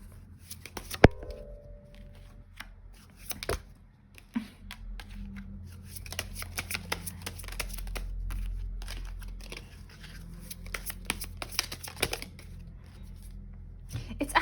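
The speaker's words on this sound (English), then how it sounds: "Let's just grab a few more cards" A deck of tarot-style reading cards is drawn and shuffled in a run of crisp riffles, slaps and flicks that come in bursts over a low steady room hum, with no talking.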